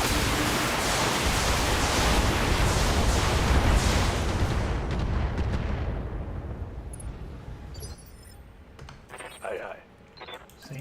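Heavy weapon fire in the Battletech video game pounds an overheated mech, a dense roaring barrage of blasts and explosions that fades into scattered smaller impacts and mechanical sounds.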